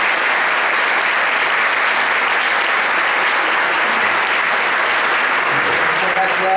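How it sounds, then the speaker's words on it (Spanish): Dense, sustained applause from a gala audience greeting a comedian host, loud and even throughout with no pauses. "Un fuerte aplauso."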